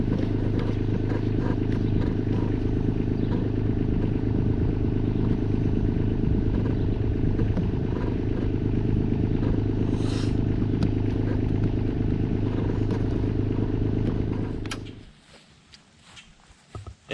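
A Schaefer mini loader engine runs at a steady, loud, close drone while rigged to pull a backleaning pine tree, then cuts out near the end, leaving faint scattered clatter.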